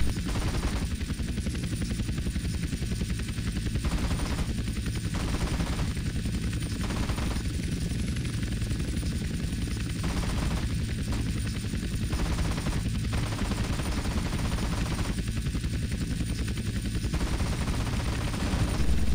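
Helicopter machine gun firing in GTA San Andreas, heard as a constant loud rotor-and-engine drone with stretches of rapid gunfire bursts running throughout.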